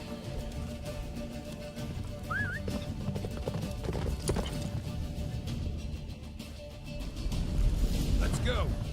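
Horse hooves clip-clopping at a gallop in the video game The Witcher 3, a steady pounding of the mount Roach under continuous rumbling game sound, with a brief whinny-like squeal and a voice speaking over it.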